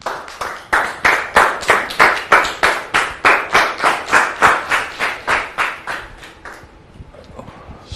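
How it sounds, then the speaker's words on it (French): A studio audience welcomes a guest onto a French-language talk show with loud, rhythmic unison clapping, about two and a half claps per second, fading out after roughly six and a half seconds. "Je vous demande de le recevoir avec vos applaudissements, très cher public"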